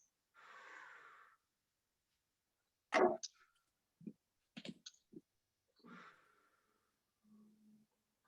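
Slow, deep breaths during a stretching exercise, with a few separate breathy inhales and exhales and small clicks between stretches of silence, quiet and close.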